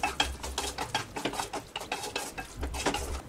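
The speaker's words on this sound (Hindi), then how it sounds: "अब हमें इसे इसमें डाल देना है और मिक्स करेंगे" Cooked white peas being stirred into chole masala in a pan, a soft rhythmic scraping and shuffling repeated through the stretch with a faint sizzle beneath, fairly close and with no voices.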